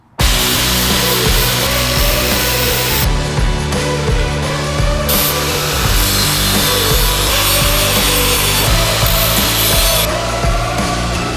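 A power saw cuts out body mount brackets on a Jeep being prepared for a long-travel suspension build, a loud, close, continuous rasping grind that shifts in tone as the blade works.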